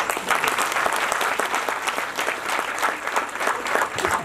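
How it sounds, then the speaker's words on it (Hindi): Dense applause from an audience at a special school's annual function, many hands clapping in a continuous, loud, even roar with crisp individual claps audible throughout and no voices on top. "इसकी तालियों की कोई जरूरत नहीं"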